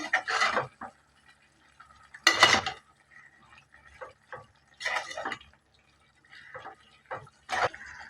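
A spoon stirs chicken curry in a metal pot, with several separate scraping, clinking bursts spaced a second or two apart, close by, with quiet gaps between them.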